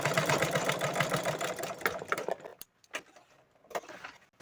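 Sewing machine stitching fabric: a dense, rapid mechanical chatter at first, then slowing into a few separate clicks and short bursts before stopping.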